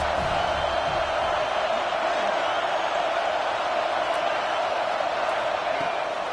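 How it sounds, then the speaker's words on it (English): A stadium crowd roars steadily for the defense on a third down at a Texas A&M versus Alabama college football game, a dense, sustained wash of cheering and shouting filling the whole stretch without letup. "Big third down as the crowd gets behind this defense."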